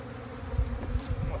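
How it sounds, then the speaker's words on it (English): Honeybees buzz steadily around an open hive being split, a dense close drone with individual bees swelling louder as they pass nearby. "There's plenty of bees here"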